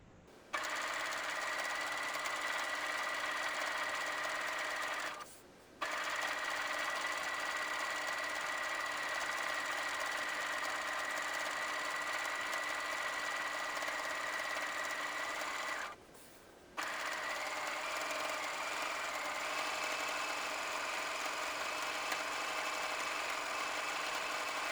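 A sewing machine stitches in a fast, steady whirring run, halts briefly twice for backstitching to lock the stitches, then carries on at an even pace, close and with no talk.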